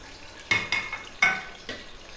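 Onions dropped into hot ghee in a pot, heard as a few sharp clanks of a utensil against metal with a soft, short sizzle and clatter of stirring close by.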